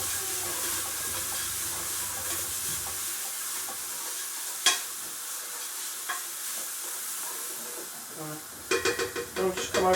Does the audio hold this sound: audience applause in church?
no